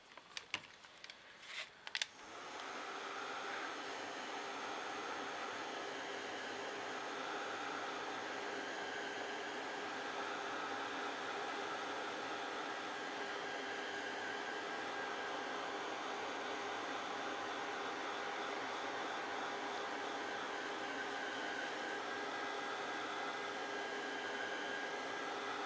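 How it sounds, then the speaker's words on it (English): A heat gun blows hot air onto a notebook cover during crafting, a steady, fairly quiet whooshing roar that runs continuously after a few brief clicks at the start. "just take the heat gun,"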